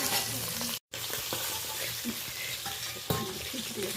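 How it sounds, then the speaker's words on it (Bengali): Tengra fish fry and spatter in hot oil in a pan, a dense, close, loud sizzle that runs on steadily, broken once by a brief moment of silence, with no voices. "ট্যাংরা মাছে ভীষণই তেল ছিটাতে শুরু করে, খুব সাবধানে করবেন।"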